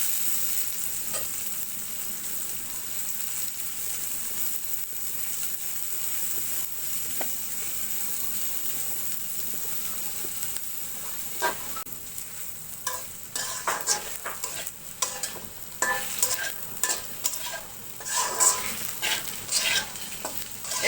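Onions and pointed gourd (potol) fry and get stirred in a pan, a steady close sizzle at first, then busier scraping and clatter bursts as the spatula moves through them, with no talk.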